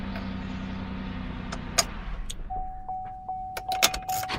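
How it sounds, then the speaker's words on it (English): Metal keys jangle and clink as the key is pulled from the ignition of a 2008 Chevy Impala parked in park, a few close, sharp clicks over a low idle hum, with a steady chime tone starting partway through. "And the key comes out."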